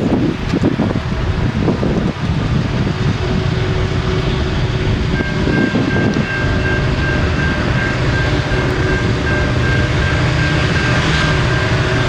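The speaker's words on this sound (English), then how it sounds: "The ethanol train." A freight train carrying ethanol rumbles past nearby, a continuous heavy roar with wheel clatter and a long metallic squeal, wind buffeting the microphone.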